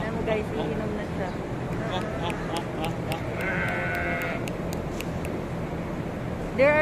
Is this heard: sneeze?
no